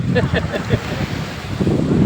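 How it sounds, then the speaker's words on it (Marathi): Wind and sea surf at the Vengurla jetty on the coast produce a steady close roar of gusts buffeting the microphone, with faint muffled voices underneath. "आणि येथे अथांग सागर निळा समुद्र बघा"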